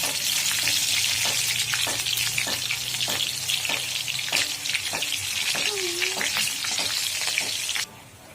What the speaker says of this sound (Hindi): ये राई डाल दे रहे हैं और इसमें अब हरी मिर्च डाल देंगे कटी वाली